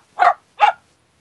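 A dog barks twice in quick succession, close and sharp, with silence around the barks.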